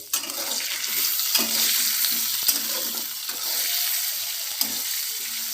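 Steady oily sizzle of potatoes frying in a pan for a cauliflower and rohu fish curry, with occasional stirring scrapes and a faint tap of a utensil throughout.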